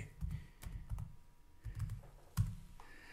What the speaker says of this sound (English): Just typing that in.